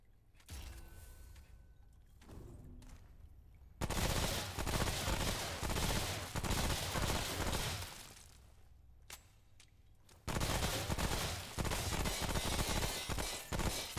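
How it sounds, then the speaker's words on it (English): A +1 submachine gun fires in Remnant: From the Ashes in long, loud, dense bursts of rapid automatic fire, broken by short pauses and mechanical clicks. "A +1 submachine gun."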